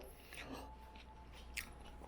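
A person chewing a chicken caesar wrap, soft close-up wet bites and crunches over a short stretch, quiet and without talk.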